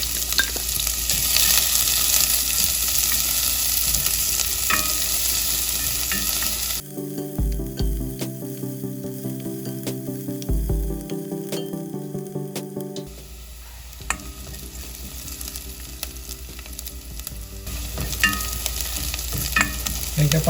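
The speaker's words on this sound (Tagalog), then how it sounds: "Then, mag-saute tayo ng onion" Chopped onion and garlic sauté in a pan of oil for a fishball sauce, sizzling loudly and steadily throughout, with stirring scrapes. The sizzle briefly shifts in tone midway, then carries on.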